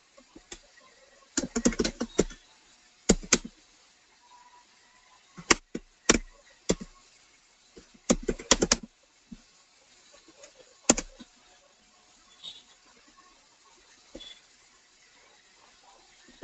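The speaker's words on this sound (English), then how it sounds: "So I'm going to type Narendra Modi speech" Keystrokes on a computer keyboard come in scattered clusters of sharp clicks separated by quiet pauses, close and crisp, with no voices.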